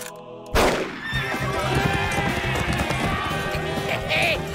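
In an animated cartoon, a horse whinnies amid a loud, busy mix of galloping and action noise, with a high call rising over the commotion.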